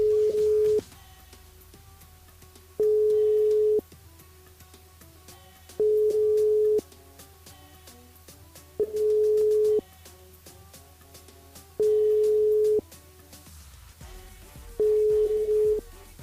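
Telephone ringback tone on an outgoing call to a radio contest caller: steady mid-pitched beeps about a second long, repeating every three seconds, loud and clear with no talk.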